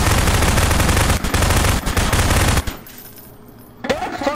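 Rapid gunfire from a Garry's Mod Prop Hunt match, loud continuous bursts for about two and a half seconds, a short lull, then one more sharp shot near the end.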